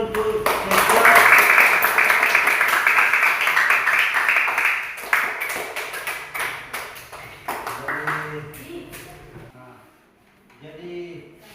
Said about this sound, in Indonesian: Coba tepuk tangan dulu untuk Sesya.